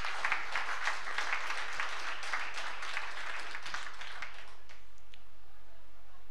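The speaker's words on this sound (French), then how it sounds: "Applaudissez." Church congregation clapping during a solemn feast-day Mass for Saint Gérard Majella, a moderate burst of applause that fades out after about five seconds, leaving a quiet room.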